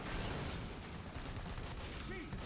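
Rapid, dense gunfire in Left 4 Dead 2 rattles continuously through a chaotic firefight, loud and close, with players' voices mixed in.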